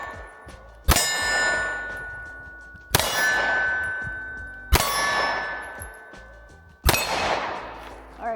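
Four Shield X pistol shots spaced about two seconds apart outdoors, each one a sharp crack followed at once by a bright ringing clang off a steel target that decays slowly.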